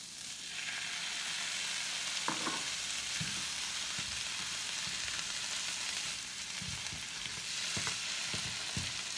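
Onion, pepper and tomato sizzle steadily in a frying pan, a continuous close hiss broken by occasional stirring scrapes and clicks, with no talking.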